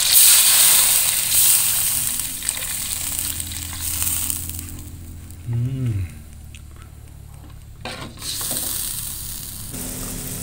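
Water goes into sizzling chopped chili rawit frying in a pan, a steady hiss and crackle close by that briefly bursts and bubbles, then settles; speech is heard alongside.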